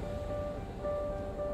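Ocean waves washing in at a beach, a steady broadband wash of surf that stays fairly even and close throughout, with a faint tonal hum running underneath.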